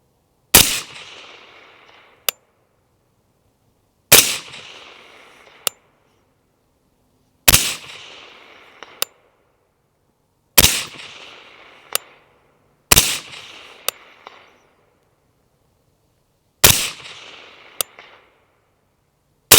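Six loud, sharp rifle shots ring out at a target, spaced several seconds apart, each with a short echoing tail and a faint metallic ping of the steel target following.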